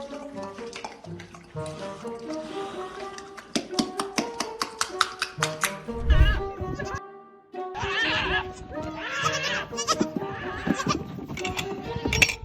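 Goats on a goat farm bleat several times over a busy, close mix of tapping, rustling and farmyard movement, with a louder burst near the middle.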